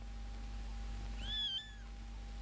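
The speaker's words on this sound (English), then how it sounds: "You realized the kitten was there before I even saw it." A kitten gives one short, rising-then-falling meow, clear and fairly close, over a steady low hum with no one talking.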